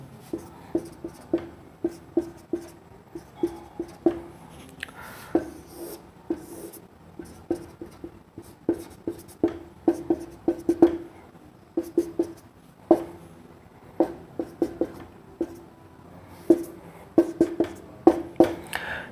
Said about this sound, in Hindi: थोड़ा और बड़ा लिख देता हूं